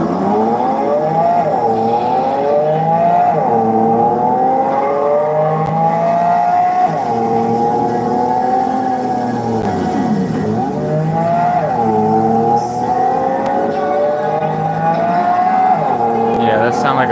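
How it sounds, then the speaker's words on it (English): A V10 car engine driving in a video game: a loud, near, steady engine drone that rises and falls repeatedly through gear changes and revving, with someone talking over it. "that sounds like a V10"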